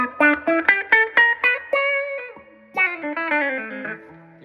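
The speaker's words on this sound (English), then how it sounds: "That's like your Mutron quacking pickup." An electric guitar played on its middle pickup gives a quacking, Mutron-like tone, with a quick run of plucked notes, a held chord, then another descending run.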